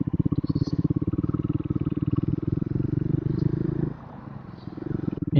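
A Triumph supersport motorcycle engine gives a rapid, throbbing pulse while engine braking on an open road, close and steady, then drops away briefly before picking up again.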